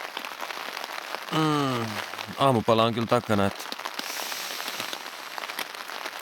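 Rain pattering steadily on a hammock campsite in spring woodland, a soft continuous hiss of drops with a person speaking briefly over it.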